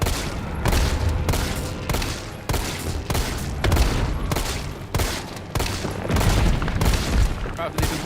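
Gunfire from the video game Resident Evil 3: a steady run of loud, close shots in a regular rhythm of roughly two per second, each a sharp crack with a heavy low thump, repeating without a break.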